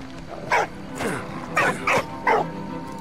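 A dog in the World War I video game Valiant Hearts barks to alert German soldiers. About five short, sharp barks come at uneven intervals over a low, steady game background.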